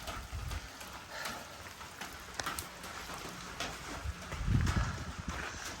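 Steady rain falls on a trail shelter along the Appalachian Trail near a mountaintop, a continuous patter with occasional heavier drips and low thumps close by.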